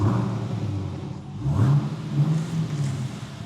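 The LS V8 in a Chevrolet Camaro SS fires on its first start after a manual transmission repair, settling into a loud, close, deep idle rumble, then a quick rev swells and falls back to a steady throb.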